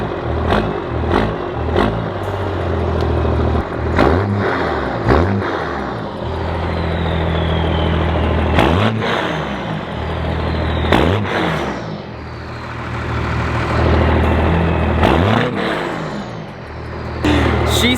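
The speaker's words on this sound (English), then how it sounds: "you can't not start a 12 valve and not even give it a little like" A first-generation 12-valve diesel truck engine, being built up as a triple-turbo dually, rumbles loud and close while the throttle is blipped repeatedly, each rev swelling and dropping back to a heavy idle over the full stretch.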